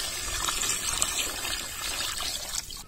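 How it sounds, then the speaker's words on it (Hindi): Water trickling and pouring into masala frying in a pan for a malgi fish curry, a steady close splashing stream with a faint sizzle underneath, holding for about three seconds before easing off at the end. "तो चलिए इसे रस के लिए हम पानी डाल देते हैं।"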